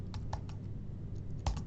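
Someone typing a word on a computer keyboard, with a few soft, scattered key clicks and a slightly louder cluster of taps at the end, close up and quiet.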